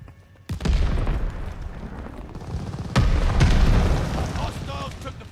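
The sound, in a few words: grenade explosion in Call of Duty Vanguard video game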